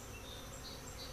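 Bees swarming around a hive as it is combined with another, giving a steady, close buzzing drone that fills the short moment without pause.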